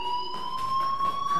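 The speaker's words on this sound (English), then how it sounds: "Hey, do you hear that fire alarm? That means you should be outside." A fire alarm rings in the video game Life Is Strange, a steady high electronic tone that holds unbroken throughout, moderately loud with a faint hum beneath and no voices.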